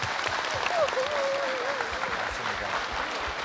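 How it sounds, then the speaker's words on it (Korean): A studio audience applauds at a 1983 Korean television broadcast reuniting families separated since the Korean War, a soft, steady patter of clapping heard somewhat distantly, with a faint tonal sound drifting over it. "여러분 박수 보내주십시오"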